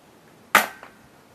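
One sharp, loud crack of an M4-style pellet gun firing, a single close shot with a short fading tail, otherwise quiet.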